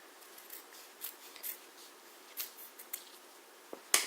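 Scissors snip through ribbon for a cheer hair bow, a few faint quiet cuts spread across a near-silent stretch and ending in one sharp, louder snip close by.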